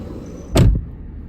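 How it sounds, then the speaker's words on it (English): A single solid Mercedes E320 car door shuts with a deep, muffled thud, close by, with a low steady background hum before and after. "if you guys hear the door thud even"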